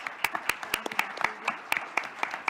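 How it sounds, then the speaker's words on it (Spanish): Applause for a doctor after a talk on electoral law in Cuba: sparse, distinct hand claps from a small audience, fairly close and irregular, some sharp individual claps standing out, no voices over them. "Pues un fuerte aplauso, por favor, al doctor."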